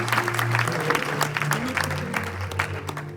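A church congregation claps in sustained, dense applause, loud and close, with a low musical hum and scattered voices beneath.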